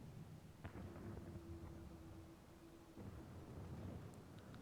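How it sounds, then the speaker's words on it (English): Thunder in the video game Final Fantasy XIV rumbles low and steadily, with a faint steady tone and a soft rain-like wash over it, no talk. "And what unseen lightning begets such thunderous report?"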